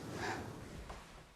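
A person imitates a quiet breath, a soft airy exhale with a faint snort-like start, heard close and alone at low level.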